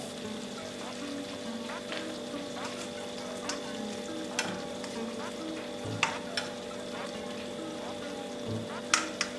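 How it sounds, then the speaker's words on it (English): Pasta added to a sizzling pan for rasta pasta with shrimp and chicken, a steady close frying crackle with scattered pops and stirring clicks. "Now I'm going to be adding my pasta"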